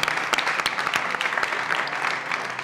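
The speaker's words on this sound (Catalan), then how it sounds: "Un aplaudiment" Audience at a live quiz-style event applauding, close and loud, with individual sharp claps standing out from a lively continuous patter for a few seconds.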